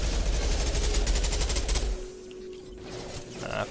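Rapid pistol gunfire in the Mass Effect 2 Legendary Edition video game, a loud fast burst of repeated shots for about two seconds, followed by quieter game ambience and a faint mechanical tone.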